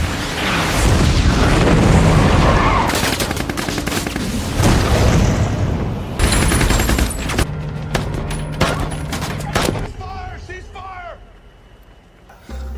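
Heavy gunfire and booming tank bombardment from the film Sicario roll on loudly and continuously, with rapid bursts and deep blasts and voices mixed in before the barrage thins out.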